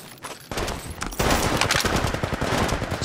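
Rapid automatic gunfire rings out in the mobile battle royale game Apex Legends Mobile. Dense bursts of shots start after a short quieter lead-in and then keep going, loud and close, with no talking.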